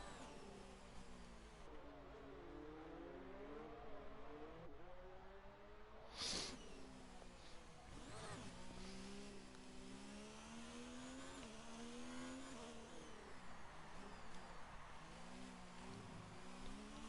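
Ferrari F2 race cars in a racing video game approach with a sustained, rising and falling high-revving engine whine. A sharp burst punctuates the steady mechanical drone, and no voices are heard over the cars.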